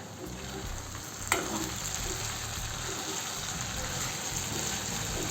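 Chopped ivy gourd (tondli) fries in a pan over low gas with a steady soft sizzle, and one brief clatter comes as it is stirred.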